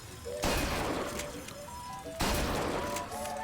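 Two loud gunshot blasts fired at targets in a video game shooting gallery, each a sharp crack with a rumbling tail, spaced about two seconds apart over a faint ringing game tone.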